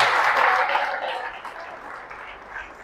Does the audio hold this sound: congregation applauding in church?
yes